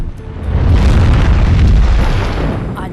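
A big, sustained explosion boom depicting the Big Bang swells in within half a second and rumbles loud and dense for the rest, full and deep with no voices.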